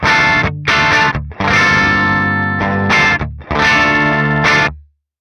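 A Les Paul with humbuckers runs through the Archetype Gojira X amp plugin with treble pushed up, giving bright, heavily distorted chords. Loud sustained strums come in several bursts separated by short gaps, then ring out at the end.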